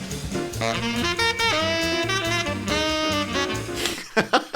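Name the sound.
saxophone playing a lick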